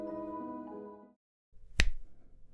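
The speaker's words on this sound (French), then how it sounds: "c'est pas avec un claquement de doigts même très réussi" A single crisp finger snap rings out sharply and close, following a tonal passage and a brief silence, during a hypnosis receptiveness test.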